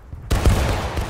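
A ragged musket volley in the War of Rights game crashes in at once, a loud broadband burst that holds a rolling, echoing rumble as several shots overlap and then fade away.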